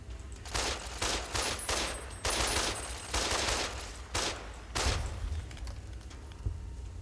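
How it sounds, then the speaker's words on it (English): Rapid bursts of laser turret fire in the video game Fallout New Vegas, loud volleys repeating in clustered salvos over a low background hum, with no talking. "Laser turrets."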